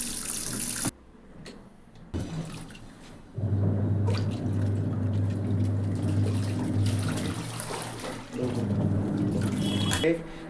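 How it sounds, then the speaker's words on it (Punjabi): Water pours steadily into the spin tub of a washing machine, a continuous close splashing flow with some handling clatter at the start and shifts in level as the stream changes. "ਜਦੋਂ ਨੂੰ ਇਹ ਸਾਈਡ ਤੇ ਕਰਦੇ ਤਾਂ ਸਪਿਨ ਵਾਲੀ ਸਾਈਡ ਤੇ ਪਾਣੀ ਆਉਣ ਲੱਗ ਜਾਂਦਾ"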